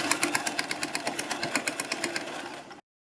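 A sewing machine stitches the neck strip of a kurti, a steady rapid needle chatter at close range that runs evenly for under three seconds and then cuts off, with no voices.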